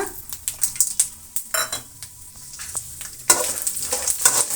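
Peanuts and chana dal with mustard seeds frying in oil in a pan for chitranna, a loud close crackle with quick scraping stirs and clicking utensil hits, brightening into a stronger sizzle partway through.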